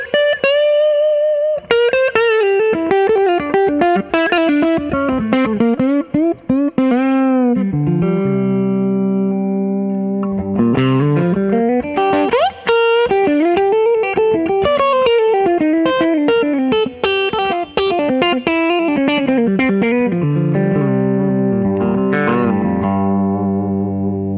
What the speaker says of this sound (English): It's one of the coolest models from Gibson, I think, and it's just a super special guitar,